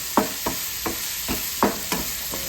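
Fish frying in oil for a fish biryani sizzles steadily as curry leaves go in, with a series of soft stirring scrapes spaced across the hiss.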